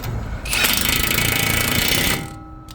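A wheel stud nut is tightened with a power tool in one loud, close burst of rattling, hammering noise that lasts under two seconds before cutting off.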